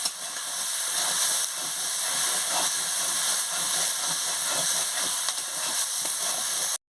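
A spice paste with ground cumin fries in a pan, giving a steady close sizzling hiss that runs unbroken for about seven seconds before cutting off abruptly, with no talking.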